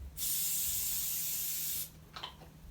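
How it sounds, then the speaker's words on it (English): A steady, loud hiss of an aerosol spray can runs for nearly two seconds, then stops, followed by faint rattling. "I'm going to spray this real quick"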